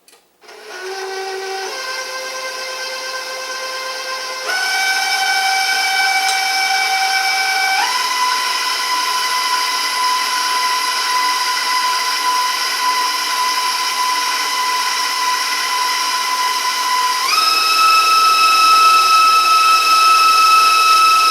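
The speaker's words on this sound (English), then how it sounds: "Alright, I'm going to mix this up a little bit." An electric mixer whirs steadily through molasses cookie batter, a loud continuous motor whine that starts low and steps up in pitch several times as the speed rises.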